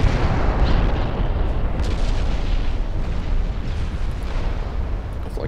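A heavy cruiser's Mark III 10-inch guns fire a volley in the naval game Ultimate Admiral Dreadnoughts, a dense sustained roar of overlapping booms and rumble that stays loud throughout.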